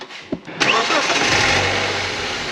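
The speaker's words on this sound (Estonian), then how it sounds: "Küll aga keera auto käima" A BMW E46 car engine cranks and catches after a couple of faint clicks, then settles into a steady, fairly loud idle with broadband roar close by.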